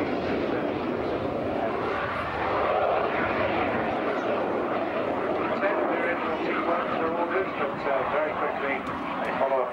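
A Hunting Percival jet trainer flies past at a seaside air show, a steady broad engine roar that holds loud throughout while a commentator talks over it.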